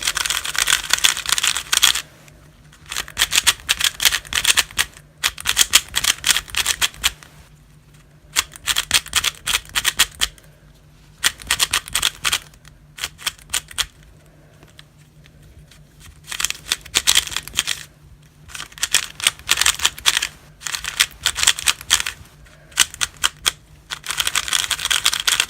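A new QiYi Wushuang or Chufeng speed cube is turned by hand and sounds dry and slightly papery. Fast bursts of light plastic clicking and clacking come in several runs, separated by short quiet pauses.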